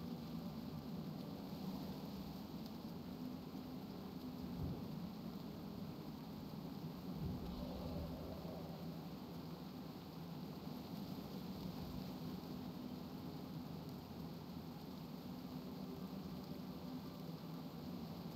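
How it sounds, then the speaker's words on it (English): Torrential rain in the video game Turtle WoW, a steady dense hiss of downpour over a low rumble, with a couple of dull thumps of thunder, even and continuous throughout and without speech. "Wow, that's a lot of rain."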